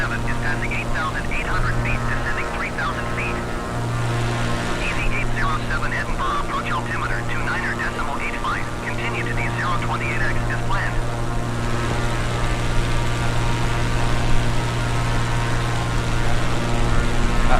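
Steady drone of an aircraft's propeller engine heard from inside the cabin in flight over Edinburgh and the Firth of Forth, loud and constant throughout while a person talks over it.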